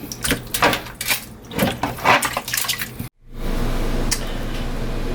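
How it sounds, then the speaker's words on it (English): Pork ribs are washed with lime juice and vinegar, first as close, uneven splashing and handling of wet meat, then as a steady stream of running water. "just put some lime juice on there and vinegar, and we're just washing those up"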